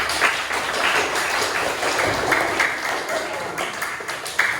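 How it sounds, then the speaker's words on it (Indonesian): A classroom group gives steady applause for a presenting group during an Islamic history lesson, with dense, continuous clapping throughout. "Tepuk tangan untuk kelompok 4."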